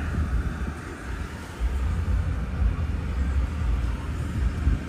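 A 2016 Porsche Panamera Turbo S engine idles continuously with a steady low rumble, close by, with a faint broadband hiss over it and no talking.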